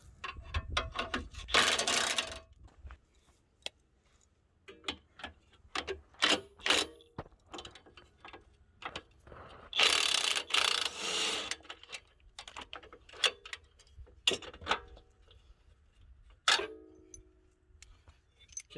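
A hand ratchet pulls bolts from the rear wheel of an old truck during a rear end upgrade, with close, irregular clicking and ticking in short bursts separated by brief pauses.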